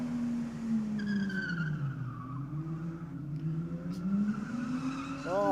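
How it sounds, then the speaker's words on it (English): Tires squeal long and wavering as a car is thrown around a burnout pad, drifting at a burnout event, with the pitch sliding up and down over a steady engine drone and no talk. "throwing the car all around the pad. It's almost like a little bit of drift style there"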